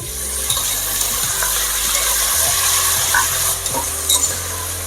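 Tempered rice with curry leaves stirred in a pan, a continuous low sizzle under soft scraping and shuffling of the spoon, with faint metallic clinks, close and steady, no voices.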